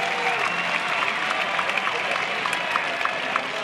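Crowd applauding at Goss Stadium during an Oregon State Beavers baseball game against USC, steady clapping spread across a big stand, distant and sustained.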